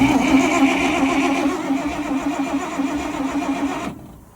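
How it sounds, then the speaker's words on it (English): A 1969 Dodge L600 truck engine cranks on its starter with a steady, even churning that runs loud and close for about four seconds, then cuts off abruptly. "Hooked up the power probe, made sure it was not in gear, give a little power to the starter."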